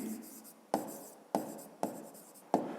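Handwriting on paper during a seventh-grade physics lesson, heard as five sharp, close strokes at regular intervals, each with a short scratchy tail, with no talk over them.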